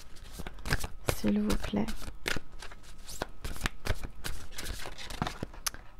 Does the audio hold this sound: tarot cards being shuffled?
yes